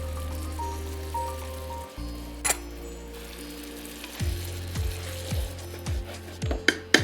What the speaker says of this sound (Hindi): अब इंतजार ये करना है कि दही भुन जाए, यानी कि जब तेल ऊपर आ जाए